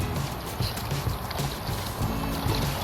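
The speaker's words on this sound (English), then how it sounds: "I'm just out here paddling around." Paddling a new red Old Town kayak on a South Louisiana bayou, with soft irregular water splashes and knocks from the paddle, close and steady over low wind noise, no talking.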